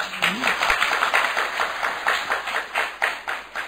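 An audience at a spiritual class claps in a steady rhythmic patter of many hands, moderately near, with a brief voice at the start.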